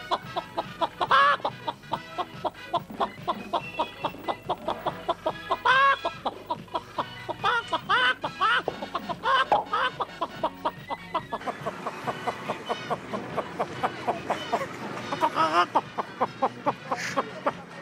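A man imitates a hen with his voice, producing a long run of rapid, rhythmic clucks with a few louder squawking peaks, close and continuous for the whole stretch.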